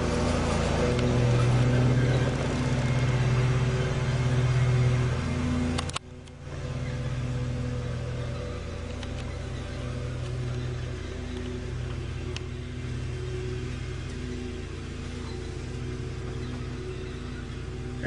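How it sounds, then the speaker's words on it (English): Continuous motor drone of a lawn mower running in the distance, steady with slight rises and dips, with one brief drop partway through. "That noise is one of the neighbors mowing his grass."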